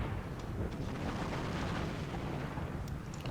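Artillery fire in the Army Men of War game, a dense continuous rumble of blasts and booms filling the whole stretch with steady loud battle noise, no voices.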